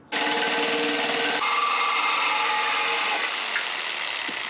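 A Sawzall reciprocating saw cutting through steel channel on a loader hoist, heard as a loud, continuous buzzing grind running steadily for about four seconds before stopping abruptly.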